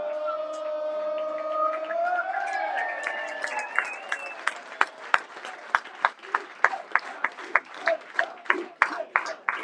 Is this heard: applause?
yes